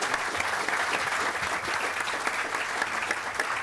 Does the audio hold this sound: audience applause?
yes